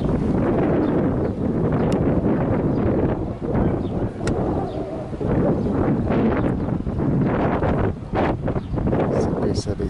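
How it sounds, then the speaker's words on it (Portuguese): Strong wind buffets the microphone in loud, continuous gusts at an airport air show, with someone talking underneath. "Mas está ventando muito, pessoal. Está um vento muito forte."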